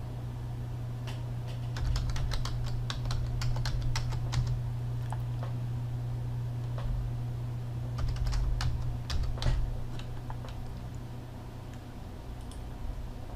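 Quick bursts of typing on a computer keyboard, light clicky keystrokes in two clusters over a steady low hum.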